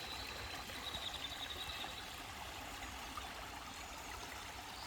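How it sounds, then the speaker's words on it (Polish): A small stream runs across a forest road, giving a steady, close wash of flowing water that holds an even level throughout with no voices. "Tutaj jakiś strumyczek przepływa przez drogę."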